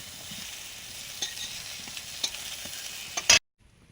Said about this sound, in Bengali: বেগুন দেবো, বেগুনটা ভেজে নিচ্ছি